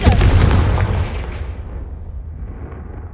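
A Confringo blast spell from the Hogwarts Legacy video game erupts in one loud, deep explosive boom at the start, then rumbles and fades away over a few seconds, with no talking.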